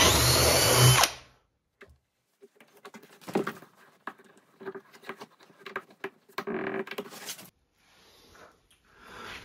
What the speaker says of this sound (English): now I've got to enlarge the hole on the bottom piece because I am going to be putting these threaded inserts in there